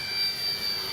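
An FMS 70mm Thunderbolt V2 RC jet with its landing gear down passes by, its electric ducted fan giving a steady high-pitched whine with a broad rushing hiss, fairly loud and sustained over a brief moment.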